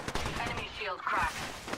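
Rapid gunfire from a ranked Apex Legends match, quick bursts of shots crackling near and loud, with a voice talking over them.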